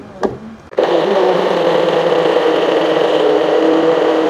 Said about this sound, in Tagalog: Blender na natin to.